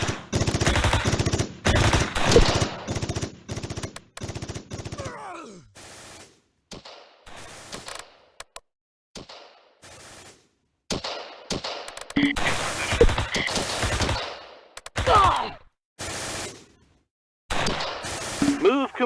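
Bursts of machine-gun and rifle fire in the Close Combat war strategy game, loud volleys early on, then scattered shots and short bursts separated by quiet gaps, with voices heard among the gunfire.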